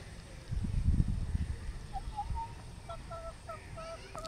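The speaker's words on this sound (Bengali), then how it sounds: "কক কক করছিস?" Chicken clucking close by in a village yard, a few short rhythmic clucks following some low rustling, moderately quiet with no one talking.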